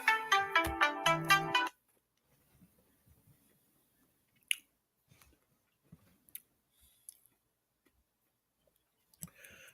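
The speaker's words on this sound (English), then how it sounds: "Looks like we got a call." A phone ringtone for an incoming call rings in a quick repeated melodic pattern for under two seconds, clear and close, then cuts to near silence with faint scattered clicks and taps.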